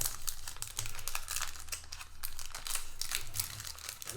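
A Pokémon Silver Tempest trading card pack's foil wrapper crinkles and rips up close in repeated short bursts as it is pulled and torn open with difficulty.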